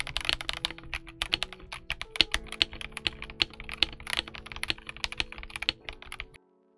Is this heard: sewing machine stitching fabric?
no